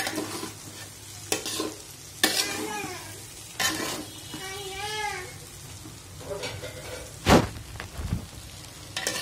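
Fried rice with mixed vegetables stirred in a pan, with soft sizzling under irregular scrapes and clinks of a spatula against the metal, plus a few sharp knocks; a brief voice-like tone appears midway.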